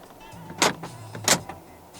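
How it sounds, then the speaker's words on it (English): Two brief whirring motor bursts from the folding side mirrors of a 2022 Toyota Corolla Cross 1.8 Hybrid as its central locking engages, close and fairly loud in a quiet cabin, each lasting about a tenth of a second. "Central locking."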